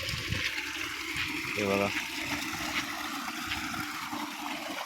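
Groundwater forced up through the earth after a night of heavy monsoon rain in Lanja, Konkan, gushing in a steady broadband rush close by, with someone speaking over it.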